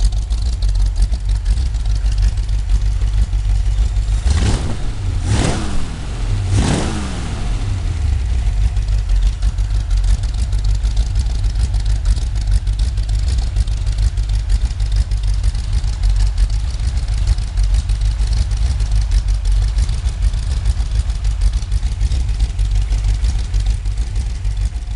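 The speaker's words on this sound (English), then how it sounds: "The 1953 Ford Flathead V8 8VA engine represents the final evolution of Ford's legendary side valve design" A 1953 Ford Flathead V8 8VA side-valve engine with a Navarro 2x2 intake runs steadily close by, a constant low rumble that swells through a few quick revs early on before settling back to an even idle.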